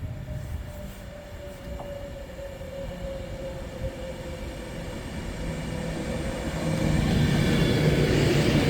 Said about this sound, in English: then arriving in now is the 1443 of West Coast Service from Manchester Piccadilly to London Euston